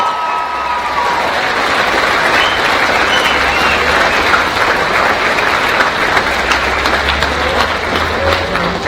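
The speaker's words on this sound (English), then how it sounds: "so can we give him a round of applause?" A school assembly crowd applauds steadily for the newly announced formal king, dense sustained clapping filling the room from start to finish with some cheering mixed in.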